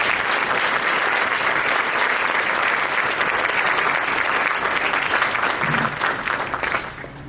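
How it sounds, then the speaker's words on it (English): An audience at a municipal candidates forum gives sustained, dense applause that holds steady before tapering off at the end. "If we could give them another round of applause."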